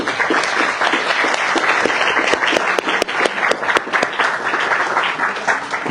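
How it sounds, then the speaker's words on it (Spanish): An audience at a legal conference on litigation strategy claps to welcome a speaker to the stage, with dense, steady applause from many hands that fills the whole stretch and no talking over it. "Les pido un aplauso para recibir al maestro."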